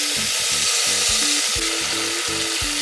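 Steady, loud sizzling of spices and mint frying in hot oil for prawn biryani, filling the whole clip, with low rhythmic knocking or stirring thumps beneath it.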